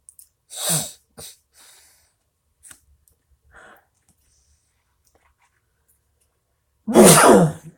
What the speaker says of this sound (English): I had a sneeze, excuse me.